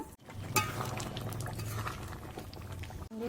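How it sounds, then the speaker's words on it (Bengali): Kashmiri-style potato curry simmers under a lid in a pot, giving a faint, steady bubbling with a few soft clinks. "এবার আমি ঢাকা দিয়ে কিছুক্ষণ রান্না করে নেব।"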